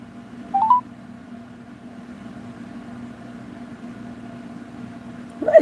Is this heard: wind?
no